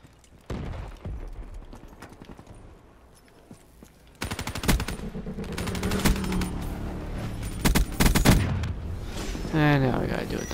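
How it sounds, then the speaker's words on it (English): Rapid video-game gunfire in bursts, loud and dense with fusillade-like volleys, starting quietly then swelling after a few seconds into sustained shooting with sharp impacts, heard alone without talk. "all of a sudden I'm getting fucking shot up."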